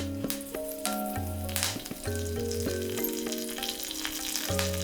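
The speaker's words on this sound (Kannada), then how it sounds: "ಎಣ್ಣೆ ಬಿಸಿಯಾದ ನಂತರ ಇಟ್ಕೊಂಡು ಜೀರಿಗೆ ಕರಿಬೇವು ಹಾಕೊಳ್ಳೋಣ" Cumin seeds and curry leaves sizzle in hot groundnut oil with a steady crackling hiss, partly masked by tonal background music playing over it.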